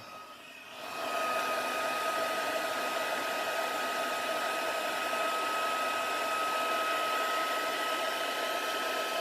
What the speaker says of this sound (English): And just grab the heat tool.